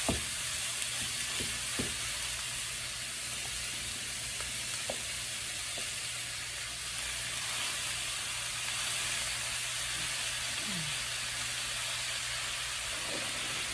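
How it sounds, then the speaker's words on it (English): Steady sizzling and crackling of meat browning in a hot pan for sloppy joes, continuous and close, with an occasional clink of a utensil and no talking. "So when you see my pan is nice and hot, it's sizzling. So we're gonna brown this."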